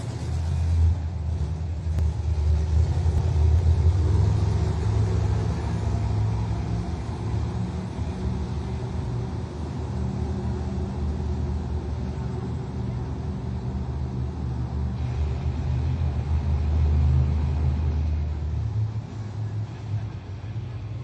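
Monster truck engine at a Monster Jam stadium event in Sunrise, Florida, a deep continuous rumble that swells and eases, heard at a distance under an announcer's voice and crowd noise.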